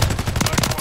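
Rapid automatic gunfire in Call of Duty Modern Warfare 3 multiplayer with a DG-58 LSW, a dense burst of loud, close shots packed together without pause.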